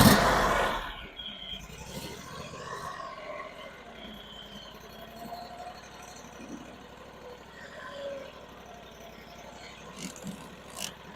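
Brush Bandit SG-40 stump grinder engine cranking to life with a loud burst, then settling into a quiet, steady low idle with occasional squeals and scrapes.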